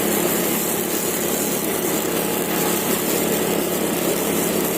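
A 4-stroke engine backpack blower sprayer, of the same style as a grass trimmer engine and used for spreading rice seed in a paddy field, runs at a loud steady high-revving drone throughout with no talk.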